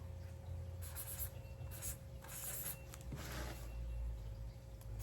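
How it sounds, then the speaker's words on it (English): A pen scratches out a number on paper up close: short bursts of scratchy strokes separated by brief pauses, quiet and alone. "I'm going to write down another number here."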